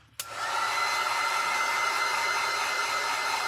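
A hair dryer blows steadily to dry ink on paper. It clicks on and then runs as a loud, continuous airy whoosh with no talking.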